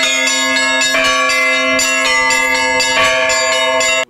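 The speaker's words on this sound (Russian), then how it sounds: "Колокола храма отличают звонкий звук." Church bells ring in a bell tower with a bright, melodious peal, several loud, close strikes overlapping in a steady rhythm and sustained ringing tones.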